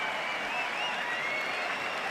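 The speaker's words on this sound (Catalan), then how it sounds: "Aplaudeixen el tabaler." Crowd applause for the drummer at the Patum festival, a steady, dense wash of clapping lasting about two seconds with no voices standing out.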